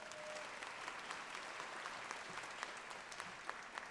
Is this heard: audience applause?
yes